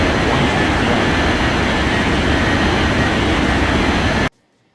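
A Malaysian airliner taxiing toward runway 14 right at an airport, heard as a loud, steady broadband engine roar that holds for about four seconds and then cuts off abruptly.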